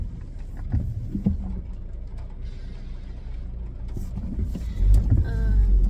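A car engine idles and rumbles up close as the car stops in a very narrow small-town street, a low steady drone with a heavier surge near the end.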